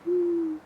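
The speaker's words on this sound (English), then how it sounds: "That's my pigeon." A single steady cooing note from a pigeon kept at an abbey, held clear and close for about half a second before fading, with no other sounds around it.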